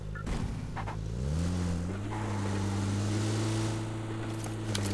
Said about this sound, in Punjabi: ਜਿਹੜੀ ਇੱਥੇ ਗੱਡੀ ਖੜੀ ਸੀ ਉਹ ਭੱਜ ਗਈ